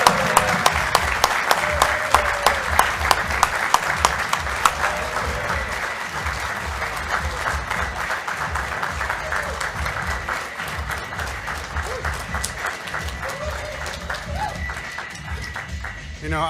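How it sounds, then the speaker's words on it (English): Sustained audience applause fills a leadership conference hall after a speaker's introduction, dense clapping holding steady for about sixteen seconds with a few sharper claps near the start. "Everybody give him a round of applause."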